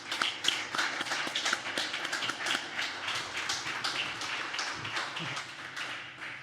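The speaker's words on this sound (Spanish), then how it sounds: "para el que le pido un aplauso y que se incorpore también" An audience applauds to welcome a guest onto the stage at a live talk event, with sustained, lively clapping from a sizeable crowd, fairly close, with a few low voices briefly beneath it.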